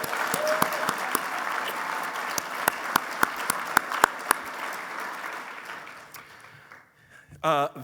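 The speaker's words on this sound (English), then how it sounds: "please join me in a round of applause" A hall of fame ceremony audience breaks into a round of applause, a dense wash of many hands clapping with a few sharp close claps standing out, fading out toward the end before a brief voice.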